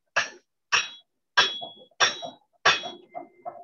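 A power hammer forging a hatchet strikes hot steel in five sharp, ringing clangs at an even pace, each followed by a brief metallic rattle, close by with no talk.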